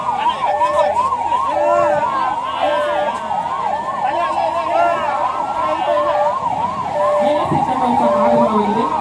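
The wailing siren of a fire service quick response vehicle rises and falls in a steady, rapid cycle during an air raid and emergency awareness mock drill in Shivamogga. It is loud and close, with faint background voices and street noise beneath it.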